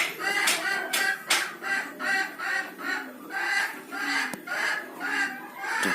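Chickens cluck in a rhythmic run of short repeated calls close by as a rooster that had been snoring works up toward a crow, steady and fairly loud.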